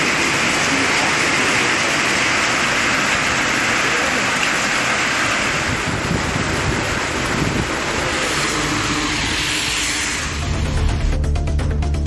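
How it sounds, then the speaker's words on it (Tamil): Heavy rain driven by wind pours down around Sivakasi, a loud, dense, continuous roar of water and gusts with no break, shifting in tone near the end. "சிவகாசி மற்றும் சுற்றுவட்டார பகுதிகளில் காற்றுடன் கூடிய கனமழை பெய்தது"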